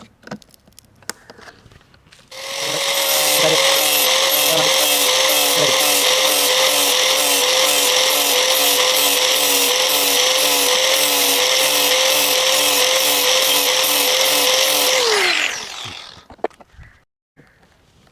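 A power tool sharpens a saw blade, starting up with a loud, steady whine and rapid buzzing chatter that holds for about twelve seconds before spinning down, with faint clicks and handling noises before and after.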